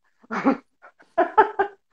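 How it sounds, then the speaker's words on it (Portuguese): A few short, soft dog vocalizations, whiny yips and grumbles in two quick bursts, fairly close and otherwise quiet. "peraí que eu vou pegar meu cachorro que tá aqui estressando para subir"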